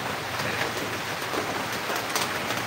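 Steady, fairly faint rain falling outdoors as a continuous wash of patter, with no talking.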